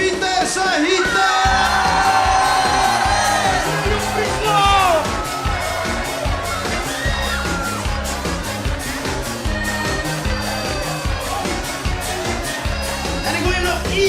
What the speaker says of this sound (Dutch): Dames en heren, applaus voor Pieter Sahita!